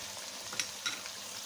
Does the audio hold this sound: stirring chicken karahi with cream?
yes